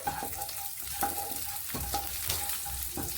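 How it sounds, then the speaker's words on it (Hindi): Cumin, fennel and split green chilies fry in oil with a constant bright sizzle, while a spatula scrapes and taps the pan in regular strokes, close up and without any voices. "अब इसे अच्छे से चला के मिक्स कर लेंगे"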